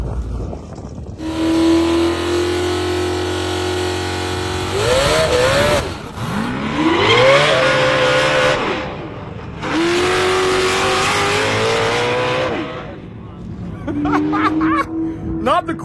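A high-powered sports car on a speed run in Dubai, its engine note climbing hard through several gear changes. The loud, close revving rises and drops with each shift.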